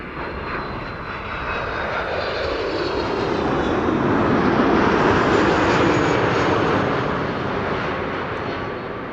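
An Airbus A330-200 airliner's jet engines roar loudly at Amsterdam Schiphol Airport, rising to a close, sustained peak mid-clip and then easing off slightly.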